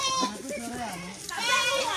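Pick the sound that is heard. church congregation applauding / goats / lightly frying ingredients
goats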